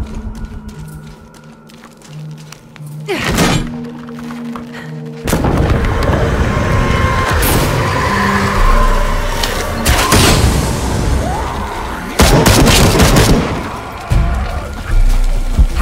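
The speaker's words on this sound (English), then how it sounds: "Have to create an explosion." Loud booming blasts in Shadow of the Tomb Raider, a sudden heavy explosion followed by rumbling crashes and further bursts, close and forceful.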